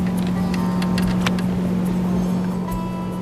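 Steady low motor drone of passing boats on Old Hickory Lake, a constant engine hum with faint splashing and a few scattered knocks.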